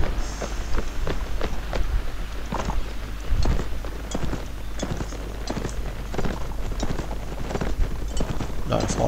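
Horse hooves clatter in rapid, dense volleys during a medieval battle in a video game, many mounts galloping at once amid loud thuds and booms, with speech-like voices mixed in throughout.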